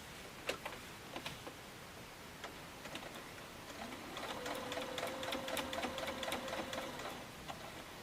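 A sewing machine stitches a book lover heart bag, starting with a few separate ticks and clicks, then running in a steady rapid whir of needle strokes while backstitching, fairly quiet and close.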